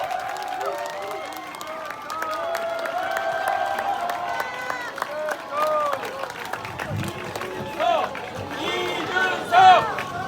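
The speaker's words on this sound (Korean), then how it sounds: "뜨거운 박수를" A street crowd at a presidential election campaign rally in Suwon claps and cheers, sustained applause mixed with shouting voices and whistles that swell louder toward the end.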